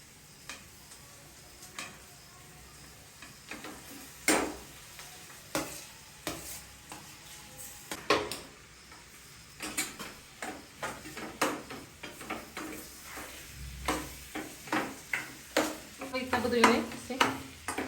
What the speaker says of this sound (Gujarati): બટેટા છે એમાં નાખી દેવાનું વઘાર માટે